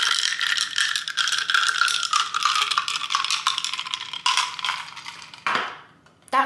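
A metal spoon stirs freshly made coffee in a cup, giving a steady close, fast clinking and scraping rattle for several seconds before it stops briefly and resumes with a final clink.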